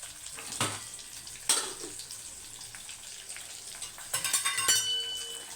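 Mustard seeds spluttering in hot oil for a beans stir-fry, with soft crackling sizzle and a few sharp pops, clustering more densely toward the end.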